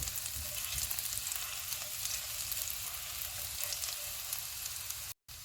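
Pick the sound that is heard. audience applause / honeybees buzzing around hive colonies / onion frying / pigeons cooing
onion frying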